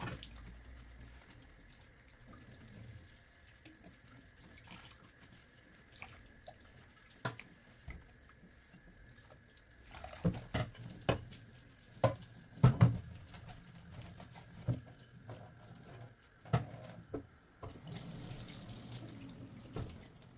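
Tap water runs into a sink while dishes are washed in very hot water: a soft steady stream with scattered clatters, splashes and drips, growing busier halfway through, with no talking.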